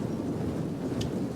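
Steady rain falls during a battle in the video game Rome 2, a soft continuous hiss with a low rumble beneath, fairly quiet and without talk.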